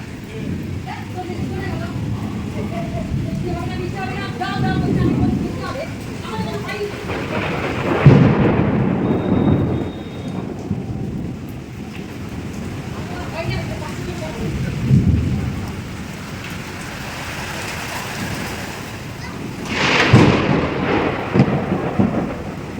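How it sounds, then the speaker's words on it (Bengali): Evening rain falls steadily while thunder rolls in several deep, booming waves, some near and loud, with a person talking at times over the storm. "ফাইনালি বৃষ্টি"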